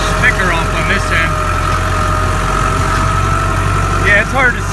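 A tractor engine idles steadily and loudly throughout, a constant low rumble, with a few faint squeaky sounds over it.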